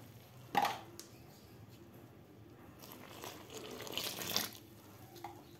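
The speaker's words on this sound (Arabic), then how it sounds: "غادا نزيد الماء 4 الكيسان، دايره الماء العادي ديال الصنبور" Ordinary tap water running from a kitchen faucet into a container, a soft steady stream with a couple of louder splashy surges, close and fairly quiet.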